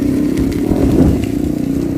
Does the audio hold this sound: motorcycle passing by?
yes